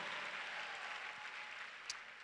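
A church congregation claps together during a Sunday service, producing a steady, even wash of applause at a modest distance that holds for the full couple of seconds.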